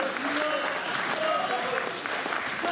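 Crowd at a boxing press conference with fighters' interviews and face-offs, breaking into steady applause and noise throughout, fairly loud and dense.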